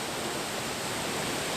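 A waterfall pours steadily in a rocky canyon, a dense, unbroken broadband rush that stays constant and close throughout, with no voices.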